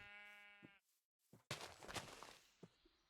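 A sheep in a TerraFirmaGreg modded Minecraft game gives one clear, harmonic bleat at the start, followed by rustling game noises and blocky footstep-like sounds.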